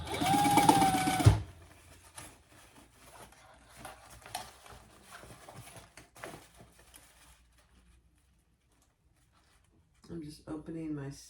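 Sewing machine stitching the box corners of a mini crossbody bag, a fast whirring run at the start that stops abruptly, followed by quiet handling, faint rustles and a brief voice near the end.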